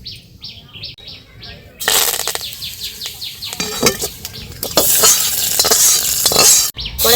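Mustard seeds and curry leaves hit hot oil in a kadai and burst into a loud, crackling sizzle that keeps going with popping spikes, after a quieter stretch with faint chirping.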